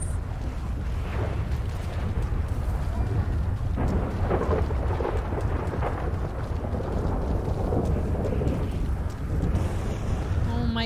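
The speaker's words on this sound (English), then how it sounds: "Oh my god, the thunder's so creepy." Thunder rumbles through a nighttime storm at a campsite, a continuous loud low roar with wind buffeting the microphone and rain-like hiss throughout.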